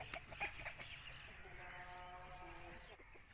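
Aseel roosters and hens on a farm in Mandi Bahauddin, giving short clucks and a drawn-out crowing call, close and moderately loud.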